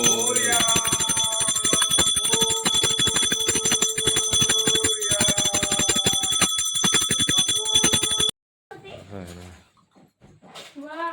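A bright hand bell rings continuously for about eight seconds, its clear metallic tones sustained and rattling, then stops abruptly before a voice speaks briefly, during a Ganesh immersion in a Konkan village.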